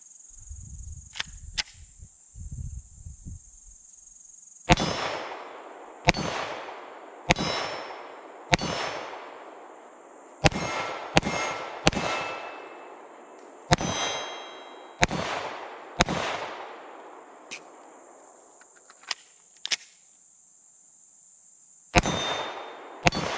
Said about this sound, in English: These are the first shots with the slide on my Glock 48 frame.